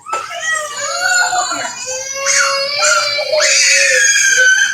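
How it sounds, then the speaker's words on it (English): Children scream and cry loudly in a McDonald's restaurant, shrill voices overlapping and rising in sustained bursts that fill the room without a break. "Can y'all hear the kids scream?"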